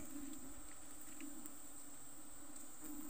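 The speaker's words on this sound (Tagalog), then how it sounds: "Kapal nila mga kaanay, oh. Kapal ng pukyutan, oh." A dense swarm of bees (pukyutan) droning steadily outdoors in a rural province, a continuous faint even buzz with no voices.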